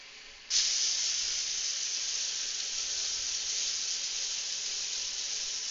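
Food hits a hot pan and instantly sets off a loud, steady sizzle and hiss that carries on evenly for about five seconds, close by and with no talking.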